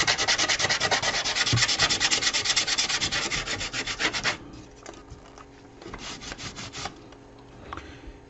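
Sandpaper rubbed over the repaired wooden case of an HMV Nipper A13B gramophone, a rapid rhythmic rasping that runs loud for about four seconds, then quieter, sparser strokes follow, no talking.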